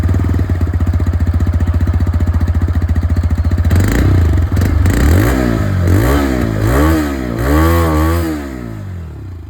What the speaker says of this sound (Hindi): इस 3 वाल्व इंजन की जो एग्जॉस्ट साउंड है वो भी आप लोग सुन लीजिए